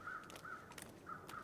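Crows caw in The Long Dark, a wilderness survival game: a few harsh, repeated calls at moderate distance over a steady ambient hiss.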